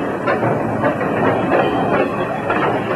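A train rolls slowly over badly worn, deteriorating railroad track, giving a continuous loud rumble with rattling, clattering wheel noise and a faint hiss, with no voices.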